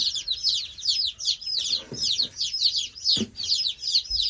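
Newly arrived chicken chicks peep loudly and continuously in rapid, high-pitched chirps close by, with a couple of brief soft thuds in the background.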